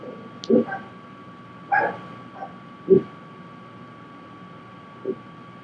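A few short, yappy dog barks and yips in separate bursts, fairly close, with quiet gaps and a faint steady hum between them.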